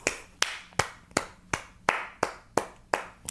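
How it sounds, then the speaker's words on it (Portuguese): One person claps their hands in a slow, steady rhythm, about nine sharp, close claps evenly spaced, with no talking. "Nossa, peraí que eu preciso bater palmas."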